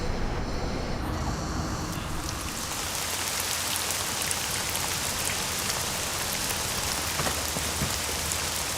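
Steady heavy rain pours down throughout, a dense continuous hiss with scattered louder drops and splashes, no voices.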